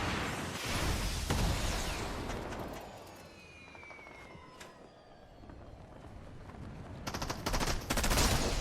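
Gunfire from players fighting each other in a battle royale shooter video game, continuous bursts of automatic and single shots echoing at a distance, steady throughout and growing louder near the end.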